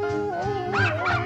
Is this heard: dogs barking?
yes